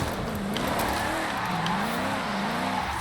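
A 1989 BMW 325i with a rear-wheel-drift tune of almost 1,000 horsepower spins its tyres while drifting in Forza Horizon 5. A steady, loud skidding hiss rides over a wavering engine drone for about three seconds.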